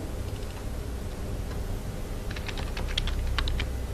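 Rapid keystrokes rattle on a computer keyboard as code is typed, with a dense run of close, crisp clicks that grows busier toward the end, with no talking.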